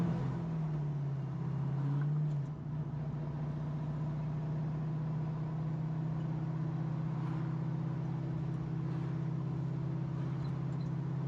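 A 1968 Mustang Fastback V8 running under a manual-transmission driver, a steady low drone that dips briefly early on and then holds an even tone, no talk.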